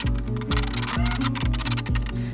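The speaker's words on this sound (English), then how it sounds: "I'm gonna take the dirty tool right here and use it to scrape it off." A dirty grout tool scrapes repeatedly across thin concrete bricks in quick rhythmic strokes, each pass a gritty rasp over a faint low hum.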